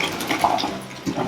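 Shrimp boil water with corn and potatoes pours from a heavy pot through a strainer in a short, splashing gush of draining liquid, close and fairly loud, with no talk.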